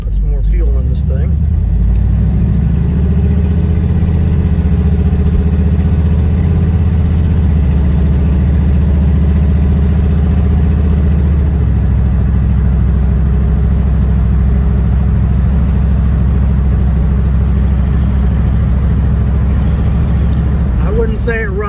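A 1979 Chevrolet Suburban engine runs loud and close in a steady, rough low rumble for the whole stretch, with talk heard over the engine noise.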